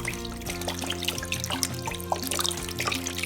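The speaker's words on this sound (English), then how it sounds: "And I'm going to dump the veg broth, which is about a liter of veg broth." About a liter of vegetable broth pours into a pot for chicken tortilla soup, a steady trickling, splashing stream heard close up alongside a constant low kitchen hum.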